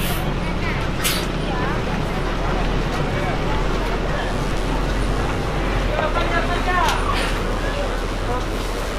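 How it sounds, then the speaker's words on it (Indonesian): An ALS super executive intercity bus, number 371 bound for Medan, pulls into a busy terminal, its steady low engine rumble and traffic noise running throughout under nearby chatter and crowd babble. "ini ada bus super eksekutifnya ya, 371."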